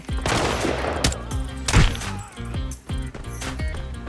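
SA85M rifle gunfire in Arena Breakout rings out as a rapid series of sharp, close shots with short gaps between bursts, loud and echoing over faint game ambience.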